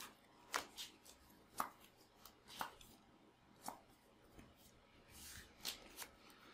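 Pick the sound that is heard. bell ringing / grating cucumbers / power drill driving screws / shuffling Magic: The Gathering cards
shuffling Magic: The Gathering cards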